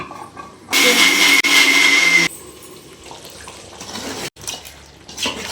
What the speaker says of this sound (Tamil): மிக்ஸில் அரைச்சிட்டு வந்துடுறேன்.